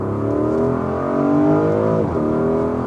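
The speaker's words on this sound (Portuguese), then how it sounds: "Mas o ronco de carga plena lembra muito um 440 com o escape" Porsche Cayenne S 2024 with biturbo V8 revving hard at full load, a loud harmonic roar rising steadily in pitch, then dipping sharply as if at a gear change before climbing again.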